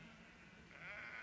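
A sheep bleats from a farm pen, a faint, short wavering call rising near the end over quiet background.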